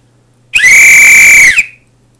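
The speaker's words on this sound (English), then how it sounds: "this is what a normal pee whistle sounds like" A standard pea whistle gives one loud, shrill, steady blast of about a second, with a slight trill, sharp onset and quick cutoff, heard alone.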